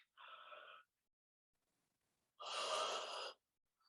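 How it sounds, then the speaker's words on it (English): Two slow, breathy yawn-like exhalations during a mindfulness breathing exercise, with a short one and then a longer, louder one after a pause of silence. "And the last yawn."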